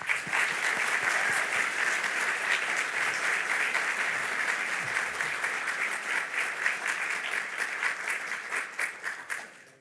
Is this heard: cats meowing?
no